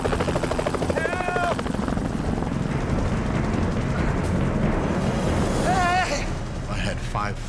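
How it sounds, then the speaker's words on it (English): Helicopters flying overhead above the Australian outback give a loud pulsing rotor chop throughout, with voices speaking over it and faint chirping calls in the background. "aimed at the helicopters as they were flying along their route"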